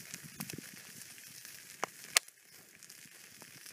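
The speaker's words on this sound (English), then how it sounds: "Cooked on slate on the open fire." Steaks cooking on a slate over an open campfire outdoors, a faint low sizzle with scattered soft pops and one sharp crackle.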